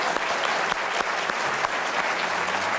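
Studio audience applauding steadily throughout at a TV quiz-show event, a dense, even wash of clapping with no voices standing out.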